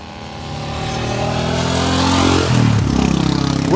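Motorbikes ridden by learner riders on a training course approach and pass close by, engine drone rising steadily to a loud throbbing peak as they go by, with no talk.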